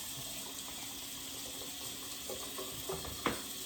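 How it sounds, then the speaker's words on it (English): Tap water runs steadily into a container being rinsed at a kitchen sink, a continuous close splashing rush with a brief knock near the end. "we're gonna rinse this out"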